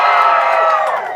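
Outdoor lumberjack show crowd cheering for competitor Nick, a loud burst of whoops and shouting that holds steady and then eases slightly at the end.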